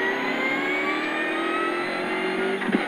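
A rally car on special stage 5 of the Rallye des vins de Chinon holds a loud, close engine note that climbs steadily in pitch under hard acceleration, with a brief bump or thud near the end.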